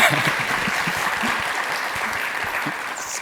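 Brief audience clapping at the start of a programming conference talk, a dense, even patter of many hands at moderate level, with a few low murmurs underneath.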